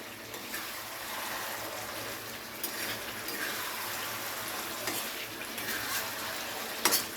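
Potol (pointed gourd) is stirred into spices in a frying pan with a steady sizzle and scraping, and water is then poured in, so the frying turns into a bubbling hiss.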